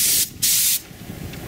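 A cheap Chinese paint spray gun sprays in two loud hissing bursts, the first brief and the second longer, with a faint short puff after a pause; close and unaccompanied by speech.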